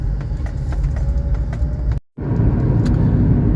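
Car engine running steadily after a downshift into second gear on a steep grade, a loud continuous drone close by, cut by a brief silent gap before the engine noise resumes at the same level.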